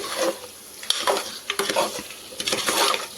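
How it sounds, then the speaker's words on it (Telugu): A spoon scrapes and stirs masala through mutton curry in a pan, with quick irregular scrapes, clinks and a light sizzle close by. "ఇలా అంతా మంచిగా మసాలా అంతా పట్టించేసేయాలి మటన్కి, కర్రీకి."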